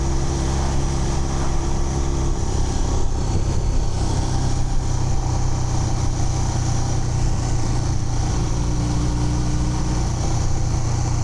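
An old motorcycle with a freshly rebuilt top end labours along on a test ride at high revs and very low speed, a steady droning engine note under constant wind and road rumble.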